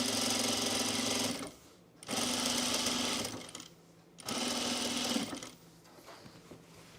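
A sewing machine stitches the shoulder seam of a knit jumpsuit in three loud, steady bursts of rapid whirring, each stopping briefly between runs, with no talking.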